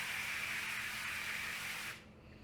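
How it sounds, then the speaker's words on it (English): Olive oil cooking spray hisses onto a cookie sheet in one steady, close burst lasting about two seconds, then cuts off, leaving quiet room tone. "I'm going to spray my cookie sheet with a little bit of olive oil cooking spray"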